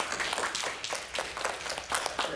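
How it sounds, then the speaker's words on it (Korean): A church congregation at a Sunday service gives a short round of applause, quiet, fairly sparse hand claps heard from a distance in a reverberant room. "우리 박수 한번 드리겠습니다"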